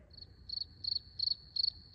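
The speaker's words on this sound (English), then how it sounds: "You're hearing crickets." Crickets chirp in a steady rhythm, each pulse a short, bright trill repeating about every third of a second. The insects sound alone over a faint low background hum, with no talking.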